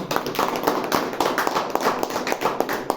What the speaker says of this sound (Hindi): तो एक बार उनके लिए जोरदार ताली से स्वागत करूँगा।